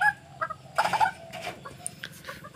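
A white-breasted waterhen, a male close to ten years old, gives loud, harsh, gobbling calls in quick bursts, close by, with scattered rustling around it.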